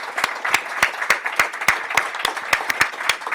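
A small audience claps at the close of a policy talk on nuclear strategy, with distinct, fairly sparse handclaps ringing out in an uneven rhythm, close and moderately loud, and no voices over them.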